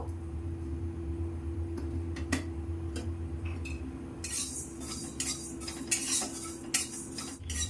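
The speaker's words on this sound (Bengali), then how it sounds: "এগুলোকে আমি একটু হালকা ভেজে নেব" Fenugreek and nigella seeds dry roasting in a pan: a spoon ticks and scrapes against metal, then a brighter crackling and rustling as the seeds toast.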